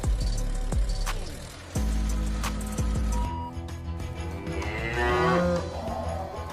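Cattle in a rotary milking parlor on a dairy farm, several cows lowing in repeated moos over steady machinery hum and clanking, fairly close and loud.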